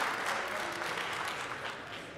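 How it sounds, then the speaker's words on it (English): Steady audience applause fills the room at a school talent show, a continuous wash of clapping at moderate level with no other sound standing out. "Let's give Elliot another round of applause"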